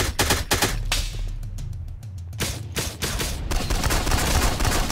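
Gunfire rattles in the survival shooter Miscreated during a night PvP hunt, with rapid volleys of sharp shots broken by brief pauses, loud and close, with no talking.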